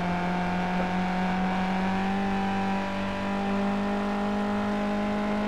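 Skip Barber race cars circle the Zolder circuit in a sim racing game, their engines a loud, continuous, high-pitched drone that shifts slightly as a pack of cars runs close together.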